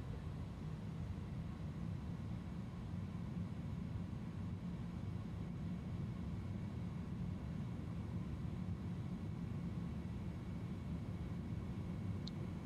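Airbus A310 engines spool at takeoff thrust in the MSFS 2020 flight simulator, a steady low, even roar that holds throughout, fairly quiet and heard from within the cockpit.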